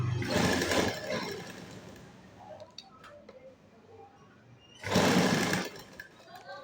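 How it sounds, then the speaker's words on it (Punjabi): A sewing machine stitches lace along the neckline of a garment in a boutique, running in two loud, steady bursts separated by a quieter pause with small ticks and handling noises. "ਆਪਾਂ ਇਹਦੇ ਨਾਲ ਨਾਲ ਗਲੇ ਦੇ ਰੱਖ ਕੇ ਸਲਾਈ ਕਰਦੇ ਜਾਣਾ ਹੈਗਾ ਗਲੇ ਨੂੰ"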